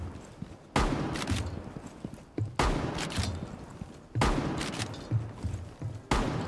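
Shotgun hip fire in Rainbow Six Siege: four heavy, booming blasts spaced about a second and a half apart, each followed by a short rattling decay, with faint footsteps and movement between shots.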